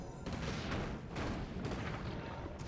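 A mortar team fires in a Warcraft III match, a quiet, muffled stream of booming shots and thuds that overlap steadily through the short stretch.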